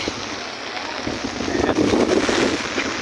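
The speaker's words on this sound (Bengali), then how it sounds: "সাথে বাতাস আছে, অনেক অনেক বাতাস, অনেক বৃষ্টি, বাতাস।" Heavy rain lashes down in strong wind in Dhaka, a dense roaring hiss with gusty rumble that swells louder partway through, no one speaking.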